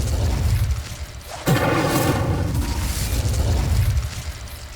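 Incendio fire spell cast in Hogwarts Legacy: a sudden whooshing burst with a crackling, roaring flare that lingers for a couple of seconds over low ambient rumble.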